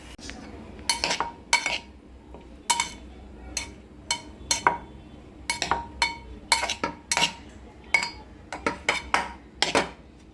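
Repeated scraping and clinking of a spoon against a pan as vegetable pulao rice is mixed, in irregular bursts with no talking.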